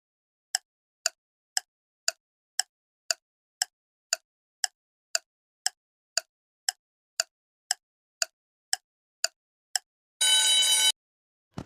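A mobile phone rings in a quick, even series of about nineteen short, bright electronic beeps, alone and fairly close. A short harsh burst of noise cuts in just after the ringing.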